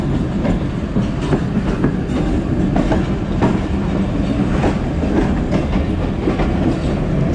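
Karachi Express passenger train running at speed alongside another train on the Multan to Lahore line: a steady, loud rumble of wheels and carriages with faint repeated rail clacks, with no one speaking.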